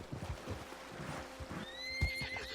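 A horse in the Red Dead Redemption video game gives a rising whinny over steady hoof clip-clops, with scattered game sounds underneath and no talking.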